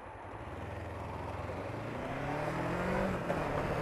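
A lorry engine rumbling past at a road junction, a low drone that swells steadily as it draws nearer.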